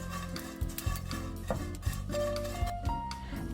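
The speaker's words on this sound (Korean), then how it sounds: "먼저 팬에 기름 없이 약불에서 멸치를 2에서 3분 볶아줘요." Anchovies dry-roasting in an oil-free pan over low heat, with repeated scraping and stirring, soft utensil clicks and light rattling against the pan, close and steady with no talk.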